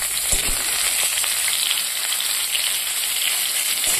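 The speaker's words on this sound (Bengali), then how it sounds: "আলু আর ফুলকপিটা হালকা লাল লাল করে ভেজে নিলাম।" Potato and cauliflower pieces fry in oil in a pan, giving a steady, dense sizzle that holds evenly throughout, with a couple of soft knocks near the start and end.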